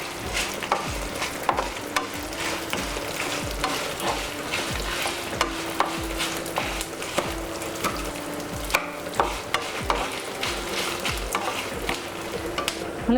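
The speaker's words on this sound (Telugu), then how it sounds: "అలానే కొద్దిగా జీలకర్ర, వెల్లుల్లిపాయలు, నిమ్మకాయ సైజు చింతపండు వేసుకుని ఫ్రై చేసుకోవాలి" Cumin, garlic and tamarind frying in a pan, a steady close sizzle broken by repeated sharp knocks and scrapes of a spoon stirring through the mixture.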